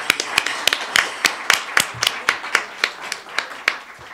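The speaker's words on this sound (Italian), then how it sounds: "vi chiedo un, un applauso per lui" Sparse applause at an art-history conference, only a few hands clapping in a steady, slightly uneven rhythm, each clap crisp and distinct, close by with a faint low murmur beneath.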